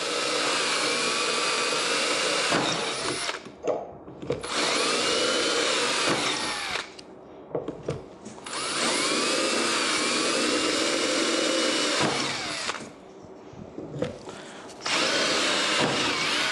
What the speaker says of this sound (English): and drill out all the other 8 holes.